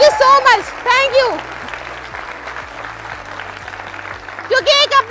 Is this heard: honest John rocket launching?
no